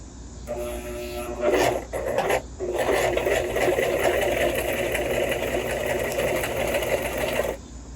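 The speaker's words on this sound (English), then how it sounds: "what is called a basting stitch, which is simply a straight stitch that you do not backstitch on" A sewing machine running a long straight basting stitch without backstitching, its steady close whirring hum continuing for several seconds after a brief stop and start near the beginning.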